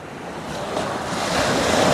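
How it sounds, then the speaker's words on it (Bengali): Sea waves surge and wash in a continuous rushing roar under a dark cloudy sky, with wind buffeting the microphone, building slightly louder toward the end. "দেখো সমুদ্রের ঢেউয়ের উচ্ছ্বাস দেখো"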